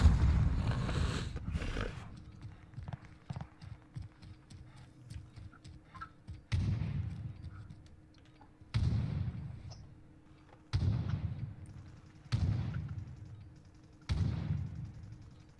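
Grenade and flashbang explosions go off in a military shooter video game, heard as a series of five or six sharp, booming blasts spaced a couple of seconds apart, each followed by a decaying rumble.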